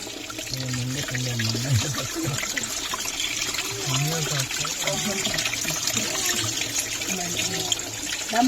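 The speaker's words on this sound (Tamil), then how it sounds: "தண்ணி வந்து கம்மியாக தாங்க வருது" Holy spring water trickling out from a source at the Japali Hanuman Temple, a steady thin flow running continuously under a voice speaking throughout.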